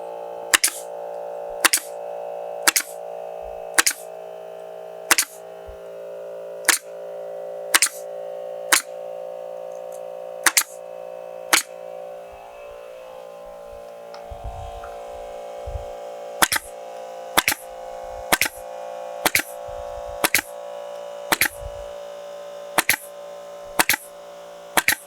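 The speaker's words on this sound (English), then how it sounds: "Sorry about the compressor running in the background" An air compressor runs steadily in the background of a cabinet workshop, a constant motor hum overlaid by sharp, regular clicks roughly once a second throughout.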